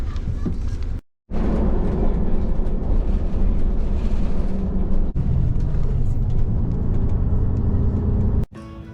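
A steady, loud engine rumble and road noise fill the inside of a moving bus on a roughly 40-50 minute ride in the Algarve, Portugal, with one brief drop to near silence and a short break near the end.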